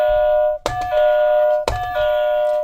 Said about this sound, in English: let me hit the bell